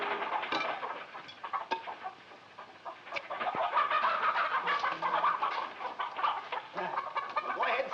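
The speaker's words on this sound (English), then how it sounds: "feed the chickens." A flock of chickens clucks and squawks continuously at close-to-moderate range, with scattered sharp calls rising over a busy farmyard murmur.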